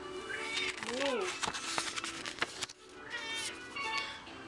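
Cats in heat meow repeatedly close by, drawn-out wavering calls mixed with clatter and knocks, while a person talks over them.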